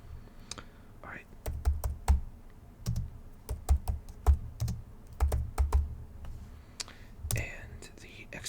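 Close computer keyboard typing in bursts of quick clicks and key presses, paused between runs, with soft whispered talk around the typing.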